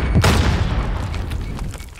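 Grenade blast in Call of Duty: Modern Warfare multiplayer, a deep booming burst near the start that rolls off into a long rumbling tail with scattered distant gunfire.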